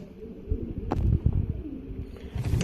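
Yellow curly pigeons in a loft coo in low, throaty bursts close by, with a brief rustle or wing flutter partway through.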